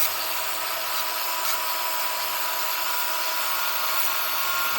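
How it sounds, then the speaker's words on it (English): Angle grinder with a grinding disc working down metal welds, a steady loud high-pitched whine and grinding rasp that holds constant close up, with no talking. "you push down a little bit, it'll also grind the welds down"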